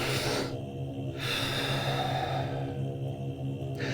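A deep breathing exhale comes as a long, soft, airy rush close to the microphone, fairly faint and continuous, with brief quieter gaps near the start and end and no speech.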